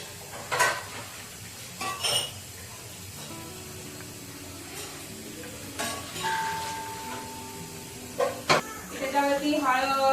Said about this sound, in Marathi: मी ते फटाफट भांडी घासून घेते